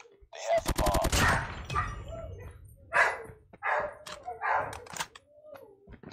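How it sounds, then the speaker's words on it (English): A dog barks at a front door in a few sharp, close bursts, with rapid gunfire from a Call of Duty Mobile match crackling in between. "She was barking at the front door."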